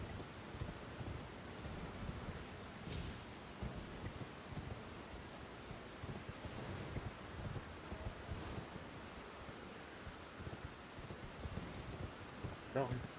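Steady rain falling in the Elden Ring video game at Castle Morne, a constant dense wash of noise with no speech heard.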